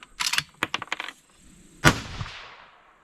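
A single sharp rifle shot from a 22 ARC cartridge cracks loudly and echoes away, preceded by several softer clicks and clacks of handling.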